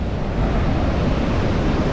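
Surf at the Godavari river mouth where it meets the Bay of Bengal at Antarvedi, a steady loud wash of waves roaring without pause, with wind buffeting the microphone throughout.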